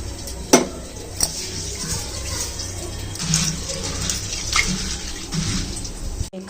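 Water swishing and splashing in a vessel with occasional soft drips and bumps as lentils are rinsed by hand; close, moderate level, no talking.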